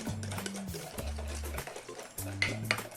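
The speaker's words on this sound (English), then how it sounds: "give them another good whisk" Eggs whisked in a bowl for coffee toffee ice cream custard: quick, close clinking and scraping strokes in several bursts, over a steady low tonal hum.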